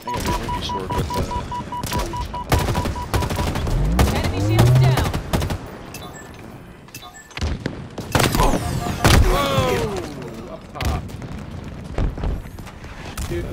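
Bursts of rapid automatic gunfire and sharp single shots crack repeatedly in the sci-fi shooter Halo Infinite, including a sniper shot, loud and close amid game effects and occasional beeps.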